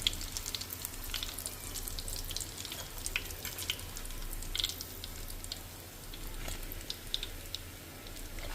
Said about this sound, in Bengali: দেখো আমি এখন বাকি ব্যাচগুলো ভেজে নেই